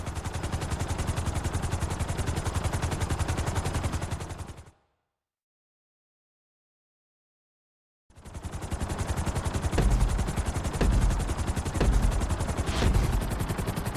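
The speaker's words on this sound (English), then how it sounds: "we're going to put you in a helicopter for this lesson" A helicopter in GTA V flight school chops along loudly and steadily. A gap of near silence breaks it, then the rotor returns with heavier low thumps.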